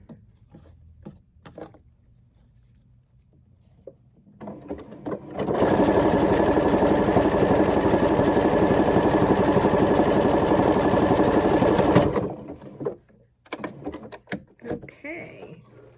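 A sewing machine stitches a tee shirt neckline in one steady, loud, continuous run of about seven seconds, framed by quiet handling noises before and after.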